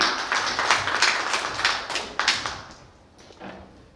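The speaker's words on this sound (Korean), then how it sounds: "여러분 환영의 박수 부탁드리겠습니다" An audience at a youth policy forum in Seoul claps to welcome a speaker: a burst of scattered, uneven hand claps that thins out and fades toward the end.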